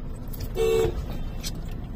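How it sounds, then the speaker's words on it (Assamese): A single short car horn honks in a traffic jam on a busy market street in Mokokchung, standing out for under a second over a steady hum of idling traffic. "কোটি ট্রাফিক জাম করে আছে কোটি গাড়ি পিছে আছে"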